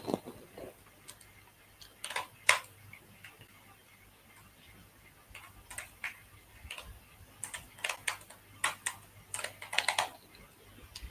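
Faint, sharp ticking clicks come sparsely at first, then cluster into denser, irregular bursts over a quiet background, with no speech.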